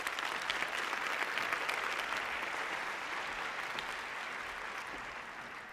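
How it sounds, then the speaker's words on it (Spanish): A crowd gives sustained applause at a talk. The clapping is steady and fairly distant, and it fades slightly toward the end. "Un aplauso grande, por favor"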